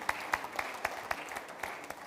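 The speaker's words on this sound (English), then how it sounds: "Let's put our hands together for Dr. Salihu, please. Please do me a favor, let's keep clapping." A small audience at a panel discussion on funding democracy in Africa claps for a speaker, with sparse, distinct handclaps at an irregular rhythm that are fairly quiet and slightly distant.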